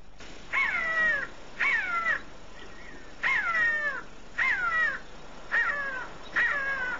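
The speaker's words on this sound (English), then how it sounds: "Jackal buzzard." A jackal buzzard gives a series of six or seven harsh, mewing, downslurred calls in fairly regular succession, each lasting about half a second, clear and fairly close against quiet surroundings.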